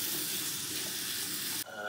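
Mushrooms and tempeh frying in oil with tamari, a close, continuous sizzle and hiss in the pan that cuts off abruptly near the end, with no talking over it.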